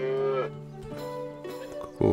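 A cow moos several times in the South Park: The Stick of Truth video game, long drawn-out bellows close and clear over a faint game background.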